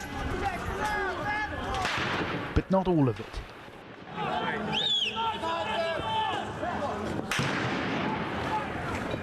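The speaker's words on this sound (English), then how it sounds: "The majority of the gunfire seemed to be coming from police lines," Gunfire from police lines during street protests: a few sharp, distant cracks stand out amid crowd noise and an ongoing voice.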